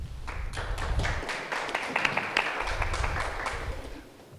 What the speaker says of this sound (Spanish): Démosle un fuerte aplauso, por favor, al licenciado Manuel Domínguez Yáñez